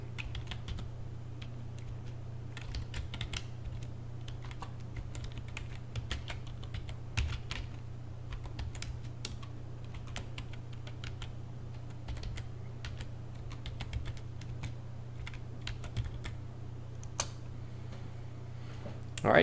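Keys on a computer keyboard are typed at a steady, fairly quick rhythm while commands are entered on a Windows machine. The clicks are close and moderately loud over a constant low electrical hum.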